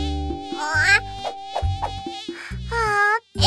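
A cartoon mosquito buzzes in short whiny bursts, its pitch sliding up and down over a synthetic musical backing with steady low notes, loud and close throughout the clip.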